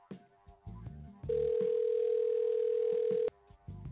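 A steady electronic call tone on a phone line holds at one pitch for about two seconds, loud and alone, between short bursts of music with a thudding beat before and after.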